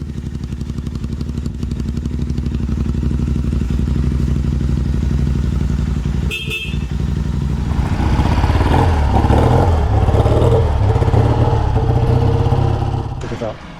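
A 1964 Triumph Thunderbird 650 motorcycle engine runs steadily close by, its low pulsing note loud and continuous, rising briefly in the latter half with some clatter and a short break near the middle.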